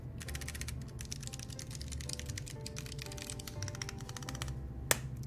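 Rapid, close clicking keystrokes from a custom mechanical keyboard being typed on to test its switches, continuous and fairly quiet, ending with one sharp louder click.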